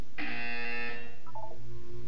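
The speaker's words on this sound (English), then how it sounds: "You will hear a buzzer. When you hear the buzzer, look up at the ceiling." A buzzer sounds in the video game Portal 2 during a test chamber exercise, a single loud electronic tone lasting about a second followed by a short falling tonal blip.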